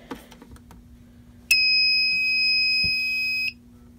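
An i3 smoke detector alarm sounding during a test: a single loud, steady high-pitched tone lasting about two seconds, after a low electrical hum and a few faint clicks.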